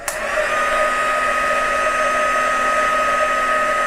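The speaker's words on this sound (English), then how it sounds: "And then I'll do the same thing with my heat tool." An embossing heat gun blows hot air over ink on a handmade card, a close, loud, steady whooshing hum that switches on abruptly and runs unbroken, with no talking.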